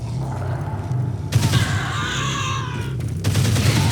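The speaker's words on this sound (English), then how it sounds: "This is my detox rifle" A detox rifle firing in the zombie game Dead Island: Riptide, a dense burst of rapid shots over a constant low game rumble, loud and close, ending after a couple of seconds.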